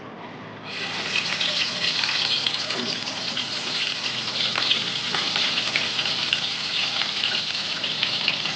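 Onion hitting hot oil for chicken afritada sets off a loud, steady sizzle that starts abruptly just under a second in and holds constant and close, with no talking.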